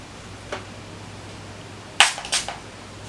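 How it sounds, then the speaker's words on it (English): Setting spray spritzed from a pump spray bottle during makeup, heard as two quick, close, breathy bursts in a row after a fainter earlier puff, with a quiet room otherwise. "Oh, I just sprayed my computer with that."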